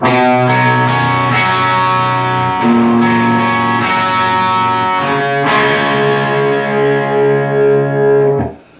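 A distorted electric guitar plays the driving chorus riff of a song, chords struck repeatedly with sharp attacks and heavy effects, loud and continuous before stopping abruptly.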